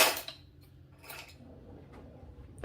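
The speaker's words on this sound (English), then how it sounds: "I'm gonna grab my tablespoon and my teaspoon" Metal tablespoon and teaspoon picked up in a home kitchen, giving a few light, brief clinks and rattles spaced apart, soft and close with a sharper clatter at the end.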